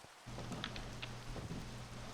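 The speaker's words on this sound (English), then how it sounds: "Oh gosh, it started to rain." Steady rain falling in the blocky world of Minecraft, a continuous broadband hiss that starts abruptly and holds evenly, with a low hum beneath it.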